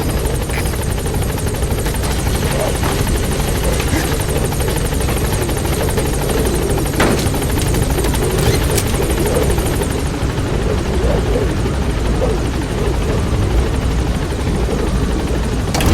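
Pequod helicopter from Metal Gear Solid V hovering on station at a landing zone, a loud steady rotor drone with constant throbbing thump held throughout, no talk.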